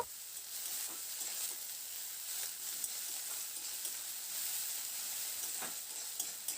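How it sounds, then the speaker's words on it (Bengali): Chopped onion frying in a pan for a spring onion dish, a soft, even sizzle with occasional light scrapes and clicks of stirring, steady and fairly quiet throughout with no talking. "পেঁয়াজটা দিয়ে দিয়েছি এবার মিনিট দু তিনের মতো নাড়াচাড়া করে পেঁয়াজটাকে হালকা করে প্রথমে একটু ভেজে নেব"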